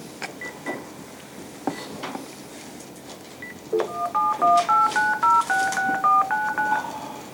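Telephone keypad tones beep in a quick run of about a dozen evenly paced presses, clear and fairly loud, after a few faint clicks and handling noises while dialing into a phone broadcast line.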